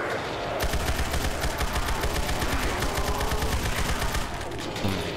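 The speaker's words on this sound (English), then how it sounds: "they took the headshot sound effect when zombies die" Rapid, steady machine-gun-like stream of shots in a video game, used as the headshot sound when zombies die, loud and continuous for several seconds before cutting back, alone with no talk.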